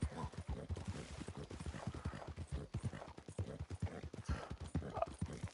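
In Red Dead Redemption 2, horse hooves clip-clop in a steady, fast rhythm of close, loud hoofbeats that carry on without a break from start to end.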